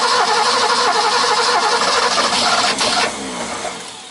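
Big boat engine cranking and catching, a loud, dense mechanical roar that steadies into a lower idle after about three seconds, with no voices.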